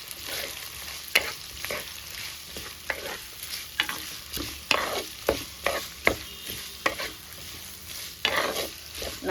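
Chopped small shallots sautéing in a pan for coconut milk pulao, a steady close sizzle broken by repeated sharp scrapes and stirs of a spoon against the pan, no voices.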